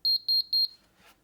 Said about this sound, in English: just something like that beeping sound will drive somebody insane